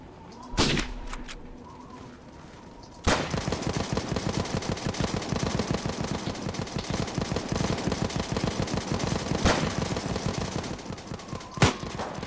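Enemy gunfire in the Red and Blue video game: a quiet start with a few isolated shots, then from about three seconds a dense, continuous rattle of rapid shots that keeps up to the end, loud and close.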